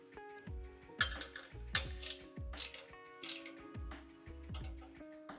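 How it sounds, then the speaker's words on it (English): Metal bolts being tightened into a pulley on a hi-low cable power stack, giving a run of close ratcheting clicks and clanks in repeated bursts, with no talking. "find the center, insert those bolts, tighten it up"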